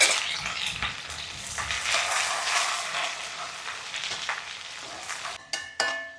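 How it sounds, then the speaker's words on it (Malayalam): Garlic, ginger, green chilli and curry leaves fry in hot oil with fenugreek and mustard seeds, a steady close sizzle with occasional stirring scrapes and a few sharp clinks near the end. "ഉലുവയും കടുകും പൊട്ടി വന്നിട്ട് വെളുത്തുള്ളി, കുറച്ച് വെളുത്തുള്ളി, ഇഞ്ചി, പച്ചമുളക്, കറിവേപ്പില, ഇതൊക്കെ ഒന്ന് നല്ലോണം മൂത്ത് വന്നു"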